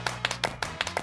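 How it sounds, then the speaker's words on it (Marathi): A few quick, sharp hand claps ring out close by in a brisk, evenly spaced rhythm for a contestant on a Marathi TV game show, lasting barely a second. "तिच्यासाठी टाळ्या."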